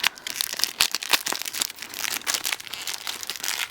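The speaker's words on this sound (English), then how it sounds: "let's just open this up real quick. Oh my gosh, this is super taped." Heavily taped package being opened by hand, a close run of crinkling, tearing and crackling of tape and packaging with sharp irregular snaps and no talking.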